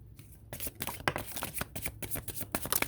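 A deck of tarot cards is shuffled close by in quick, riffling bursts. The shuffle begins after a short quiet start, then flutters and snaps steadily to the end with no one speaking.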